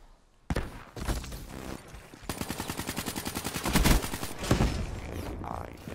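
Vesper submachine gun firing in Call of Duty Black Ops 3, a fast rhythmic burst of rattling shots after a short quiet start, loud and sustained with heavy thuds mixed in.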